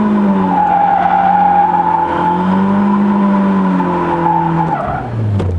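A car drifts after a clutch kick, tires squealing loudly and continuously over a revving engine, the sustained screech wavering in pitch and dropping near the end.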